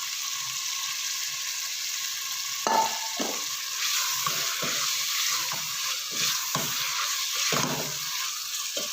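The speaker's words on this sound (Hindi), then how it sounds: "अब मैं इसमें शामिल कर दूंगी छोले जो हमने बॉईल करके रखे थे" Boiled black chickpeas and mashed potato tumble into a frying masala and get stirred, giving a steady sizzle with a few louder scraping bursts of the spoon against the pan.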